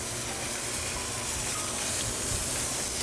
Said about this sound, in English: I'm just gonna quickly sear the bottom.